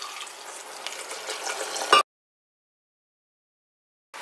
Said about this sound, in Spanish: Voy a poner 1/2 tacita de agua.